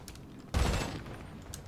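A short burst of gunfire from the video game Grand Theft Auto V, a loud broadband crack about half a second in, decaying over the next moment with fainter noise after it and no talk.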